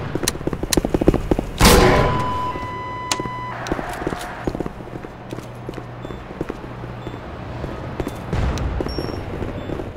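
Gunfire in a Half-Life 2 roleplay game, rapid bursts of close sharp shots with a heavy blast near the start and another volley toward the end, amid other in-game mechanical sounds.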